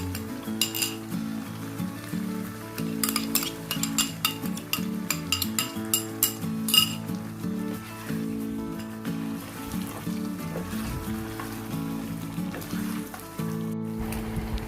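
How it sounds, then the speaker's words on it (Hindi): Chicken korma cooking in a pot as a yogurt and onion mixture goes in, with a soft sizzle under repeated clinks and scrapes of a metal spoon against the pan, close by. "अब इसके अंदर मैं योगर्ट और अनियन का मिक्सचर ऐड कर दूंगी"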